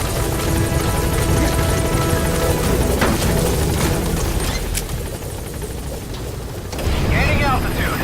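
A helicopter flies in the video game Metal Gear Solid V. Its loud, steady rotor churn runs throughout with gunfire-like bursts, briefly dips, then swells again. Game voices speak over part of it.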